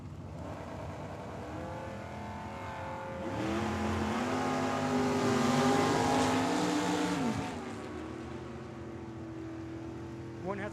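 A 1998 Camaro and a 1989 Ford Mustang launch side by side at a drag strip, their engines rising into a loud, sustained roar with a wavering, lumpy idle note before and after the pass.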